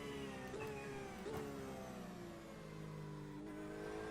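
LMP2 prototype race car engine failing in iRacing during a 24-hour event at Road America, a steady loud engine drone with harmonic whine that dips and sags midway, as if bogging on the straight.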